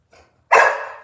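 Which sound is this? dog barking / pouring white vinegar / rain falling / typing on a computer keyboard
dog barking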